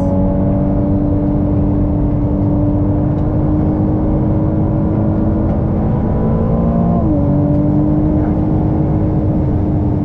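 Ferrari 296GTB engine at Sepang circuit, a loud, steady in-cabin drone with a clear tonal whine that shifts pitch partway through as the car accelerates, no voices over it.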